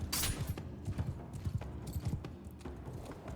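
Steady clip-clop of a horse's hooves in the samurai game Shokuho, a close, brisk trotting rhythm over faint background noise, with no one speaking.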